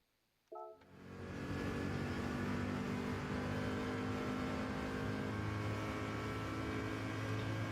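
A race car engine on the Daytona Road Course in GT7 starts with a brief click, then climbs into a loud, sustained rev that holds as a steady high-RPM drone with no talking.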